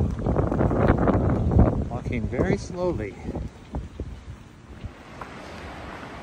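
Gusty wind on a forest walk along a pilgrimage trail leaving Le Puy-en-Velay, rushing and buffeting the microphone under a person speaking, then easing to a softer steady blow.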